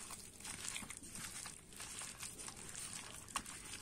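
Hands mix dry spices into sour yogurt for a marinade, giving soft, wet squelching and crinkly rustling that come and go over a few seconds with no talking.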